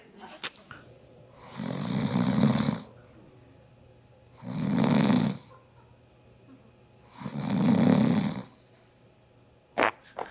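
Three long snores from a person, evenly spaced a couple of seconds apart, each a rasping nasal drone alone in an otherwise quiet room with a couple of faint clicks.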